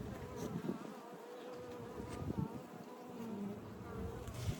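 Honey bees in a dense colony inside an open 24-frame Layens hive make a steady, low, continuous buzz that swells slightly at moments, heard close and alone with no talking.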